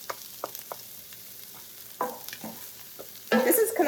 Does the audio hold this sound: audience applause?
no